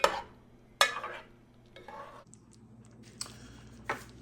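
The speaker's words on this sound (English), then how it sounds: "Get it all stirred up." A spoon stirs garlic, black pepper and salt into a bacon cheeseburger soup in a pot, giving a few scattered clinks and scrapes, sharp and close, with quiet gaps between.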